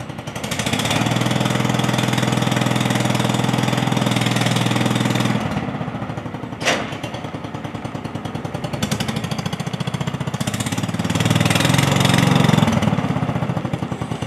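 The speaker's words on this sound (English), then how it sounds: "the sound of a lawnmower, that humming" A lawn mower engine runs loud and close while cutting grass, a dense continuous drone with a clattering edge that shifts in pitch and load as it moves.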